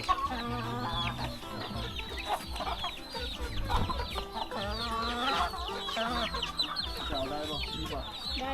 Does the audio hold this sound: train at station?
no